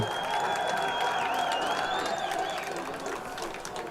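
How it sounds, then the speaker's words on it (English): Spectators at a high school football game in Portland clap and cheer in a broad, somewhat distant crowd wash that holds steady, with a thin whistle-like tone drifting over the noise. "Got some clapping on the Portland side"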